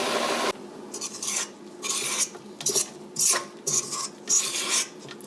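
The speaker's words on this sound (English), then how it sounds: "And just start mixing it up till it's incorporated." A spoon mixes flour and buttermilk into oat bread dough in a bowl, producing rhythmic scraping and stirring strokes in regular bursts, close and clear with no talking.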